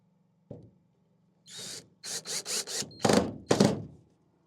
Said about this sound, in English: then we'll sink another screw back over here